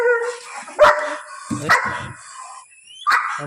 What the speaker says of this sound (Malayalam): പട്ടി ഇവിടെ കിടന്ന് ഭയങ്കര കുറയാണ്